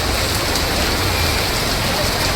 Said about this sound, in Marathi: पाऊस तुम्ही बघू शकता म्हणजे किती घाण पाऊस पडत होता.